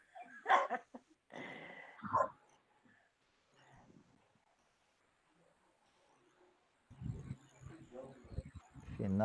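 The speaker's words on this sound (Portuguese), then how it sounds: "cachorro tá latindo." A dog barks in a few sharp bursts early on, fairly close, then goes quiet; later a person speaks briefly and there is some breathing or throat noise.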